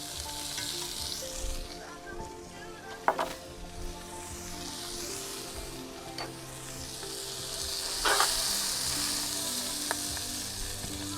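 Steak and shrimp sizzle loudly in ghee butter on a Forno de Pizza, a dense continuous frying hiss broken by a few sharp spits and stirring scrapes.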